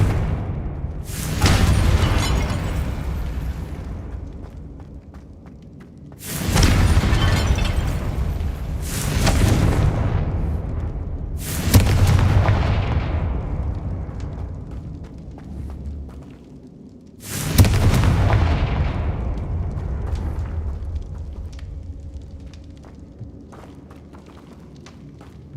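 Five heavy blasting-spell explosions from the Hogwarts Legacy game, each a loud, close booming burst with a long rumbling decay, spaced a few seconds apart with no talk.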